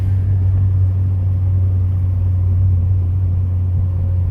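A Honda Civic Type R EP3 engine gives a loud, steady low drone, heard from inside the car on a road. The rumble holds evenly throughout with no voices.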